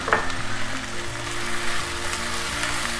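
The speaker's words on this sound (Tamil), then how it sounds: "இஞ்சி பூண்டு நல்லா வதங்கினோன்னா இருக்கிற தக்காளி கட் பண்ணி வச்சுன்னு போட்டுக்கலாம்." Chopped tomatoes sautéed with ginger garlic paste in a pan for rajma masala give a steady, close crackling sizzle with faint stirring scrapes and no talk.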